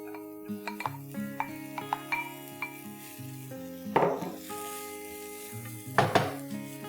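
Cut radish pieces and leaves fry in sunflower oil in a pan, with a steady sizzle under repeated scrapes and knocks of a stirring spoon, close and moderately loud.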